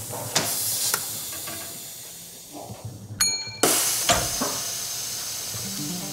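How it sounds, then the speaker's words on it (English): A steam press lifts in a sound effect. A sharp metallic click gives way to a loud, bright rush of hissing steam that tapers off, following some earlier faint clicks and a quieter background. "We could just have that steam press lift and it would sound like this."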